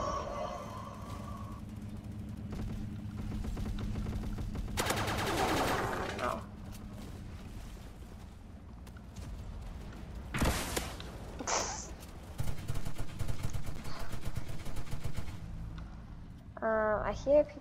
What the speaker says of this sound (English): I hear people shooting.